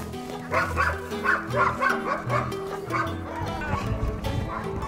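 Sled dogs bark and yip close by in quick, repeated bursts, with whimpering in between. Several animals call over one another, and faint background noise sits underneath.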